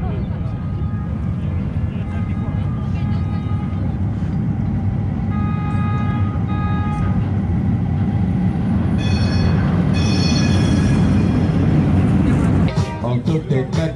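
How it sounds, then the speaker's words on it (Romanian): A tram pulls up along a street in Portugal, its rumbling wheels and motor hum rising with squeals and tonal whines as it nears, steady and loud throughout before a sudden drop at the end. "Acum vine tramvaiul."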